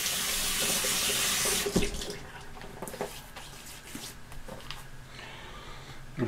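Water runs steadily from a bathroom tap into a sink while a man wets his face before shaving, a loud continuous rush at first, then fainter splashing and dripping as hands scoop water.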